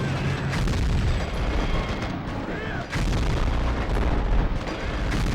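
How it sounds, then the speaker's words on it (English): In the video game Gungrave, loud explosions and heavy booming gunfire burst continuously in a chaotic fight as a missile hits the player, a sustained dense barrage with a short dip partway through. "I'm just gonna take that missile to the face"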